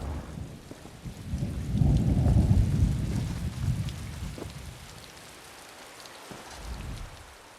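Thunderstorm in Elder Scrolls Online Summerset at Sea Keep: steady rain hiss with a loud rolling rumble of thunder building and fading, no voices.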